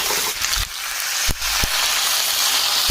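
A pan of Bengali vegetable curry sizzles steadily and loudly as water is poured in, with a continuous frying hiss and a few sharp clinks of utensils against the pot.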